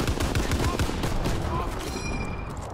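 A Bren light machine gun fitted with a drum magazine fires in Call of Duty WWII, a quick string of close automatic shots in the first second that gives way to fading echo and background battle noise.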